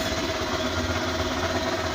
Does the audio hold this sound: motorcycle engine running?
yes